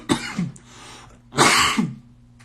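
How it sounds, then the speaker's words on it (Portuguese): Two harsh coughs, each a sharp burst followed by a rougher tail, close and fairly loud over a low steady background hum, from someone with a strong cough. "Tomar água aqui que a tosse tá forte."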